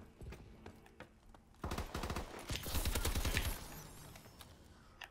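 Gunfire in a gun-game round of a video game, faint rapid bursts and scattered shots rising into a denser volley midway before fading away.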